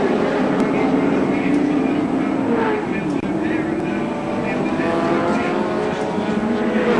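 Touring race cars at the 1984 Castrol 500 at Sandown, Victoria, roaring at full throttle along the back straight, engines droning loud and continuous beneath an excited commentator's voice.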